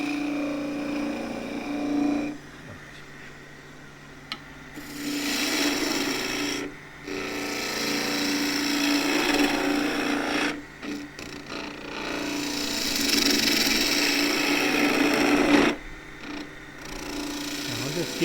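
A skew chisel shapes a spinning wooden skittle on a lathe with a steady, loud rasping hiss of cutting. It drops out briefly at a few points as the tool lifts off, then resumes.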